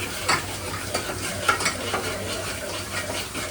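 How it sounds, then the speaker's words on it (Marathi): Chicken stir-fries in a pan over a gas flame, with steady close sizzling and repeated scraping strokes of a spatula against the pan throughout. "परतवा. चांगलं परतवा."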